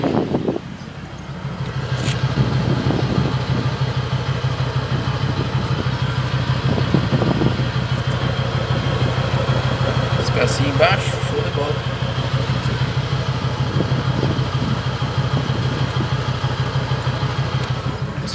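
A Mercedes-Benz 1525 truck's diesel engine idles steadily and loudly nearby while its air system builds pressure, a continuous low rumble with occasional clanks, and someone talks over it.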